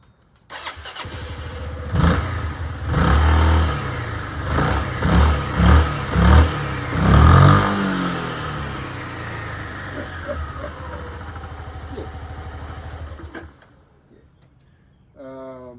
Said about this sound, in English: You crank it up, let that engine.